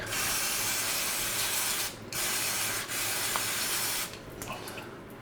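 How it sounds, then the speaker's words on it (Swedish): A loud continuous aerosol hiss of brake cleaner sprayed in long bursts during a Haldex service on a Volvo XC70, broken by two brief pauses, then fading into a quieter rustle at the end. "Sprayar vi rent lite här med lite bromsrengöring"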